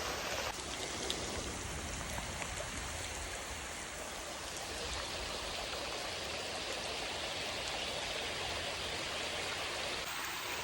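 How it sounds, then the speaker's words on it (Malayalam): Heavy, unbroken rain pours steadily over a village pond area at Naduvattam Parammal, a dense, even hiss of countless drops filling the whole scene with no voices. "നല്ല തോരാത്ത മഴയാണിന്ന്."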